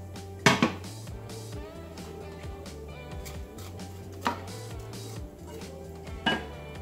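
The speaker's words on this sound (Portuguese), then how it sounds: "aqui na panela agora eu vou colocar as maçãs já fatiadas." Sliced apples for an apple cake drop into a pan, giving a few sharp clinks and knocks spaced apart over a low background hum.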